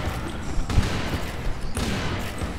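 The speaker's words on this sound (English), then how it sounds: "I like shooting things with dual pistols." Dual pistols firing in the game Serious Sam II make a dense, steady stream of gunfire with a few sharper cracks, loud and continuous for the length of the clip.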